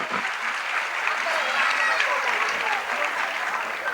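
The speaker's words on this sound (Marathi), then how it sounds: "जोरदार टाळ्या." Loud, steady applause from an audience at a pre-primary school annual show, a continuous crowd of clapping hands lasting a few seconds without pause.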